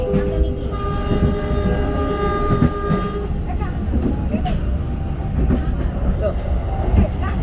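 An Indonesian commuter line train runs along the track toward a station, with a steady loud rumble and wheel clatter, a long horn blast near the start, and faint voices underneath.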